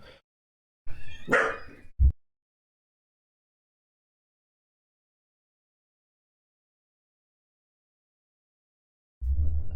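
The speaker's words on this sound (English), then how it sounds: "Damn dog." A dog barks a couple of times close by, a short burst of sharp yelps near the start, then silence until a low rumbling noise returns at the end.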